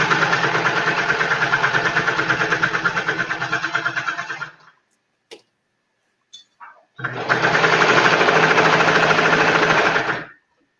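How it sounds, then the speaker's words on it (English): Sewing machine sewing a sleeve in with elastic, two loud sustained bursts of motor whirring separated by a quiet gap with small clicks. "let's sew this arm in with the elastic"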